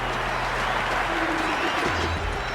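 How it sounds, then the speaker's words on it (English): Spectators at an IPL cricket match between Delhi Capitals and Gujarat Titans roar and applaud after a big hit, a dense, steady wash of crowd noise filling the stadium throughout. "The spectators are absolutely buzzing right now."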